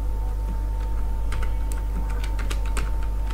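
Keys tapped on a computer keyboard during data entry in MS Access, scattered clicks in short bursts over a steady electrical hum, with no voices.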